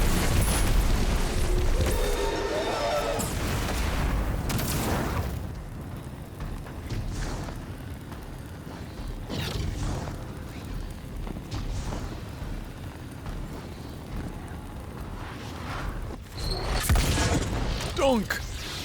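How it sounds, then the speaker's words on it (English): Grenade blasts in a Destiny 2 style sci-fi shooter, several heavy booming bursts with rumbling debris, loudest at the start and again near the end, separated by quieter stretches of mechanical background noise. "Eat grenades."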